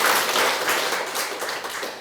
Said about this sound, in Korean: 일단 박수라도 한번 이렇게